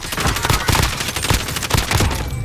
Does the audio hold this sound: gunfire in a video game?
yes